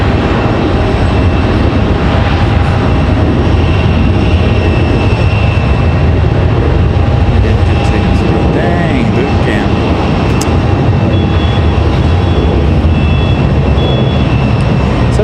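Loud, steady jet engine roar from a Delta CRJ regional jet on the move at Raleigh-Durham International Airport, a constant broadband rumble with a faint tonal whine, heard close.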